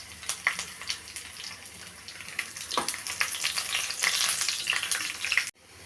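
Dried chillies and garlic fry in hot oil with a busy, irregular crackle and sizzle, sharp pops scattered throughout at close range before the sound cuts off abruptly.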